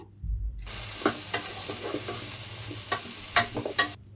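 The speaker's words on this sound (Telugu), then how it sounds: "ఒక 2-3 వంకాయలు, ఇవన్నీ వేసి ఒక 2-3 మినిట్స్ అలా వేయించాలి ఈ ఆయిల్లో" Brinjal pieces fry in hot oil, a continuous close sizzle with sharp crackles and pops from stirring scattered through it.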